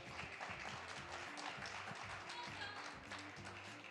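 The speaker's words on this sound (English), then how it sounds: "that's worth a round of applause" An audience applauds at a St. Louis Cardinals Winter Warm Up event with players and executives on stage, steady sustained clapping from a crowd with a low tonal hum or music running underneath throughout.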